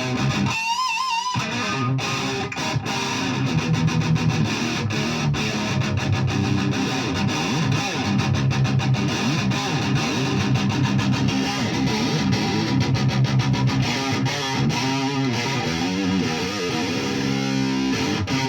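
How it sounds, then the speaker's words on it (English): Distorted electric guitar plays a sustained, washy riff with moderate gain, dense and loud throughout, with a brief gap near the start before the chords ring on. "I am gonna drop the distortion a little bit because in that song it does not sound like there's a ton of distortion"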